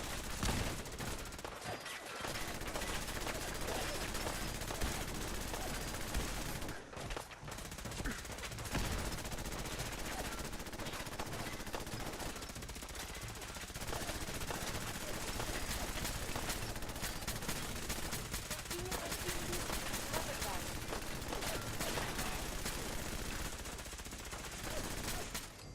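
In Wasteland Warrior, gunfire rattles in dense, continuous bursts of rapid automatic shots, loud and close, with brief pauses between volleys.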